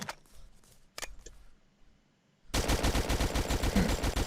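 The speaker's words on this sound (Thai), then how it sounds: "คราวนี้ก็ยิงเป้าคนให้หมดนะครับ" Rapid automatic gunfire aimed at human-shaped targets in the mobile online FPS game Natural Born Soldier: a few sparse single shots early on, then a loud continuous burst of fire filling the last two seconds.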